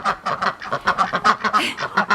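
Rapid, rhythmic quacking from ducks close by, a continuous chorus of nasal calls with no pauses.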